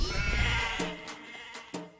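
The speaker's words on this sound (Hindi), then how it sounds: "भेड़ बकरियां भी उतरेंगी।" Sheep and goats bleat close by, a long wavering bleat followed by several shorter, fainter calls, with no speech.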